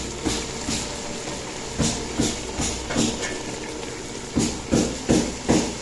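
First coconut milk poured into a hot pan for ginataang talbos ng gabi, close, loud hissing and sizzling in repeated bursts with a steady bubbling undertone.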